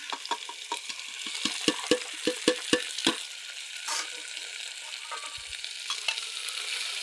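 Biryani masala, turmeric and salt being stirred and toasted in a pan, with a run of quick scraping strokes early on, then a quieter, softer sizzle and occasional clinks.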